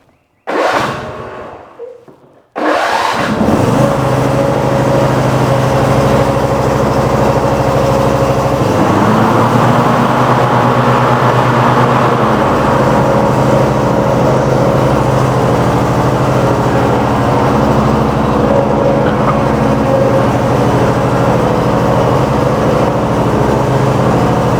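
The engine of a Cub Cadet RZT zero-turn mower with a 50-inch deck cranks briefly, catches after a pause and then runs at a steady, loud idle, close by and without talk.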